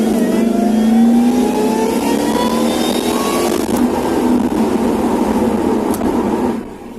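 A car with modified air ducts and intake accelerates hard, its intake noise rising in a long, loud climbing whine and roar over about six seconds, then falling away as the throttle eases.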